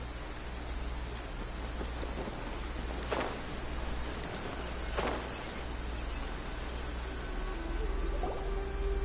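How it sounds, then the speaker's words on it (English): Steady heavy downpour in Genshin Impact, a dense constant hiss of rain with low rumbling underneath and a couple of brief crackling thunder-like bursts. "Taking a stroll in the middle of a downpour certainly rouses the spirit"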